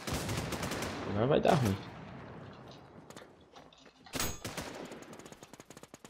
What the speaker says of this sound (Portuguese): Nossa, três caras me atirando.